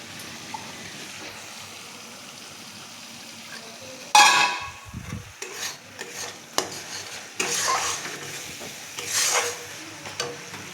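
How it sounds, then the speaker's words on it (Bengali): Spices stir-fry in a pan with a low sizzle. After a quiet start, sharp spatula scrapes and clinks against the metal come in bursts from about four seconds on, close by and irregular, with no one talking. "মশলা আমি ভালো করে কষিয়ে নিচ্ছি।"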